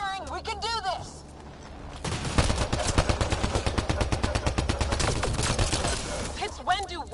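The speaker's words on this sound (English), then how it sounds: "Just keep firing, we can do this!" Rapid gunfire from the video game Mass Effect: Andromeda rattles in a dense, continuous burst of shots, loud and close, with a voice briefly heard at the start and end.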